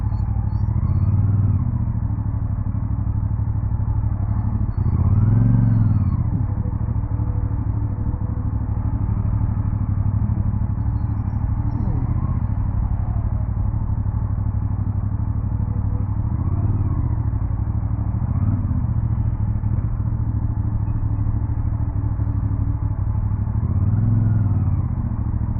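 Heavy, slow-moving traffic on the NLEX Skyway heard from a motorcycle in the middle of it: a constant low engine rumble with occasional swells as nearby vehicles rev and pass, close and steady throughout.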